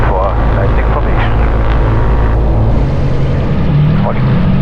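A P-38 Lightning and a P-51 Mustang roll for a formation takeoff, their piston engines giving a loud, steady roar that builds and holds throughout, with a voice speaking over it.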